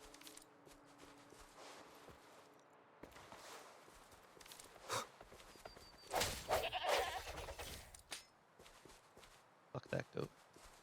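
Goat bleats from a fantasy video game, a few short nasal cries mixed with in-game footsteps and effects, heard under someone talking.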